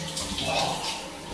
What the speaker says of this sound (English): Okay, cold shower, day two.